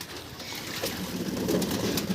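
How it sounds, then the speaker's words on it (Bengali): Pigeons at a new loft, soft cooing and a brief flutter of wings as they lift up, close and continuous over a short moment with no talk. "উপরে কিছু পায়রা বসে আছে, এখন ওরা মানে ছাড়ার সাথে সাথে উপরে উঠে গেছে"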